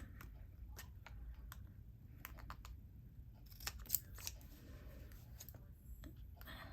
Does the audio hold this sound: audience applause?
no